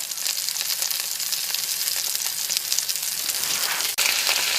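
Food sizzles in a pan outdoors in Norway, a steady close hiss and crackle with no talking and a brief bump near the end.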